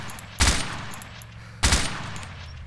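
Two heavy, booming bursts of gunfire from the Arma 2 military shooter, spaced about a second apart over a quiet background, each with a sharp attack and a short rumbling tail.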